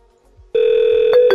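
A VoIP phone on a 3CX extension rings with a steady electronic tone starting abruptly after a brief quiet moment, loud and close, with a couple of short clicks in the sustained ring.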